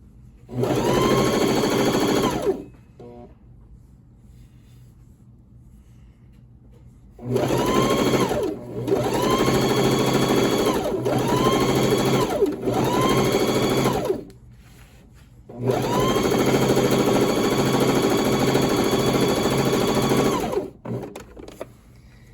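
A sewing machine stitches a narrow pin tuck along a chalked line in fabric, running in several rapid, buzzing bursts of a few seconds each with short quiet pauses between them, close and clear.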